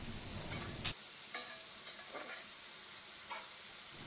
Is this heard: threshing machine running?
no